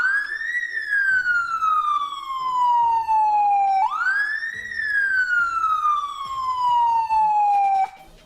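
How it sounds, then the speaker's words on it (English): Siren of the Mercedes-AMG Formula One medical car wails in two long rising-then-falling sweeps, loud and close, with faint engine and background noise beneath. "And the blue one, that's the siren."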